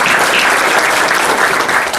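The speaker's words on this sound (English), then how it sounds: "Please, big round of applause for our head table." Dense, loud applause from a banquet audience for the head table at a State of the City event, continuous clapping filling the room.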